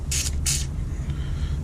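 Two short hissing bursts of aerosol spray are squirted into a sticky lock on a Toyota Hiace, each about a quarter second, close and bright, over a steady low hum.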